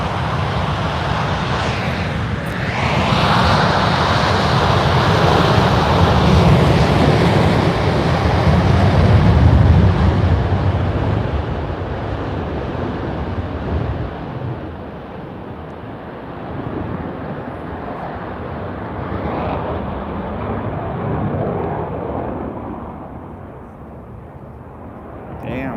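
Blue Angels jets roar overhead at an airshow, a loud sweeping rush that swells and then fades into the distance, heavy wind buffeting the microphone while someone talks over it.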